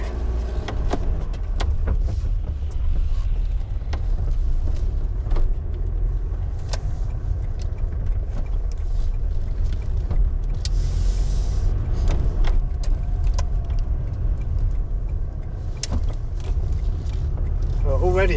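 Car fitted with an aftermarket performance pod air filter crawling slowly, a steady low engine drone heard from inside the cabin with occasional clicks and rattles, while a person talks intermittently over it.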